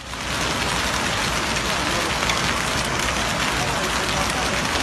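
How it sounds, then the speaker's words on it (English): A dense, steady roar of large hail pelting a surface, constant and loud throughout, in Ascoli Piceno, Italy. "Large hail in Ascoli Piceno, Italy."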